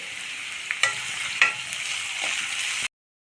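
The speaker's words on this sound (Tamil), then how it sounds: "இப்போது குடமிளகா கொஞ்சம் வதங்கிட்டு இருக்கு" Capsicum sautéing in a pan for masala, with a steady moderate sizzle and a few distinct scraping clicks of stirring before it cuts off abruptly.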